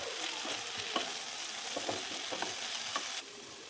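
Small-diced potatoes and eggplant are stir-fried in a pan, with a steady soft sizzle and scattered scrapes and taps of the stirring spoon before the sound drops off near the end.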